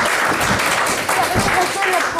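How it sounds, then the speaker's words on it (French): A school engineering club audience applauds the players of a quiz game, a short dense burst of clapping mixed with overlapping voices and chatter close by. "on va vous applaudir bien fort, vous avez été bons"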